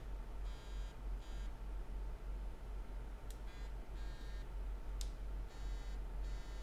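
An iPhone running iOS 12 gives a USB accessory notification with a few short electronic beeps and buzzes in repeated bursts, faint over a steady low hum, with no talking.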